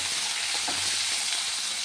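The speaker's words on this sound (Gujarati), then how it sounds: "હવે ટમેટા સતરાય ત્યાં સુધી આપણે એને સાંતળવાનું છે" Tomatoes and coriander stems sautéing in ghee in a pan for paneer lababdar, giving a steady, close, fairly loud sizzle with a faint stir or clink partway through.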